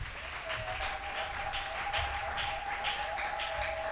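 A church congregation applauds at a fasting and prayer service, clapping steadily for several seconds at a moderate distance. A sustained tone hums beneath the clapping.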